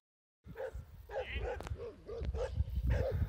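Several dogs bark and yip in quick, excited bursts close by, one after another, along a countryside route in Bulgaria where they chase a passing cyclist.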